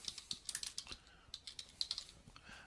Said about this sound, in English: I'll just type in budget analysis